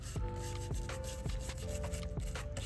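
Rubbing and scraping along the top edge of a Google Pixel 6 Pro chassis to clear dust and grime, steady scratchy strokes repeating about every half second with faint tonal squeaks, close and continuous.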